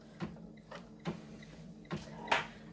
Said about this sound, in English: let's do the placement stitch first